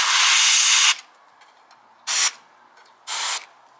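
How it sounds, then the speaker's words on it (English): Compressed air duster blasting dust out of PlayStation 5 vents: one long loud hissing spray, then two shorter bursts after pauses, close up with faint handling noise in between and no talking. "Get your duster and blow in them"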